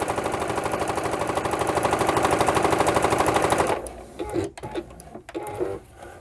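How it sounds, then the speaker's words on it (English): A sewing machine stitches the seam of a cotton fabric protective mask in a rapid, steady mechanical chatter for several seconds, then stops, leaving quieter handling clicks and rustles. "Then with a good 1/2 inch, I just sew all the way around."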